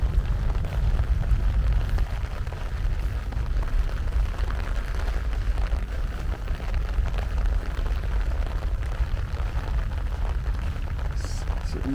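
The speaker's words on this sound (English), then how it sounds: "Oh, my umbrella is a little bit too small and the rain is blowing." Wind-driven rain pelts a small umbrella by the seaside, a steady loud rushing patter with heavy low wind buffeting that holds constant throughout, no speech heard.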